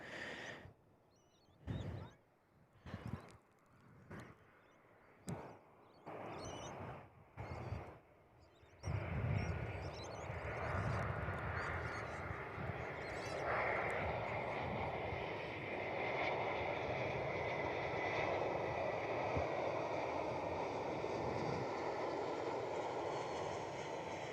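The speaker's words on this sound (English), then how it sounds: "And then we should see Thai Airways pretty much now ready for their departure." A Thai Airways airliner departs Perth Airport, its jet engine roar rising into a broad, sustained rumble that fills the second half. Before it, bursts of wind buffeting hit an outdoor viewing deck.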